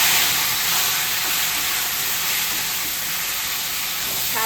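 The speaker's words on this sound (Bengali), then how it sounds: "এবার দিয়ে দেবো কাটা কচুগুলো" Cut taro pieces go into a hot pan of oil with a loud, continuous frying sizzle and hiss, close up and steady, with no talking.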